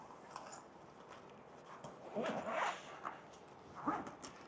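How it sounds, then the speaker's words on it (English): A YKK zipper drawn closed on a packed Veto Tech Norwalk tool case gives a few close, scratchy rasping pulls in short bursts, with brief pauses between strokes. "This zipper here, the Veto always has great zippers. They have those YKK zippers"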